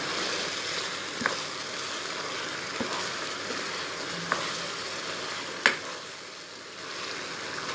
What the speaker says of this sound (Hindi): मसालों को हम मिक्स कर लेंगे और तेज़ आंच पर इसको फ्राई होने देंगे।